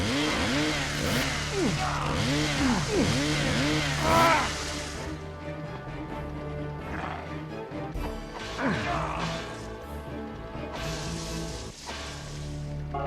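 Chainsaw attacks in the Evil Dead video game: a loud, dense run of revving, engine-like buzzing with repeated pitch sweeps and smashing hits during the first four seconds, then fading into quieter game sounds and music.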